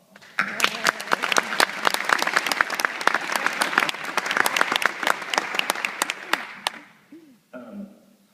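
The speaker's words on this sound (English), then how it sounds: "everyone should give Doug Gorman a round of applause" Audience applause at a chamber of commerce coffee hour in City Center, Bowling Green: crisp, close individual claps from a modest crowd that build quickly, hold steady, then taper off before a voice begins.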